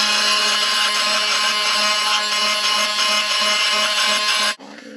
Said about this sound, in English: I used the multi-tool.